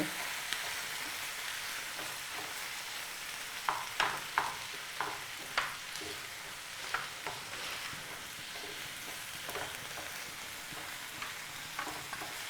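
Brinjal pieces fry in oil with a steady soft sizzle while a spatula stirs and scrapes the pan in scattered clinks, fairly quiet and close.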